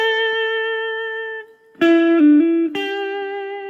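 Clean-toned electric guitar riff from a song: a long sustained note, a brief gap, then a short run of notes ringing out, close and clear with no voices.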